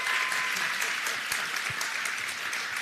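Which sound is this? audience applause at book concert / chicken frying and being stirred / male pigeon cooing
audience applause at book concert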